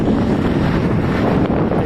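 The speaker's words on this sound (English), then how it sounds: "It's gone very windy today." Strong wind gusting across the Kerry Way trail buffets the microphone in a loud, constant roar, with no voices over it.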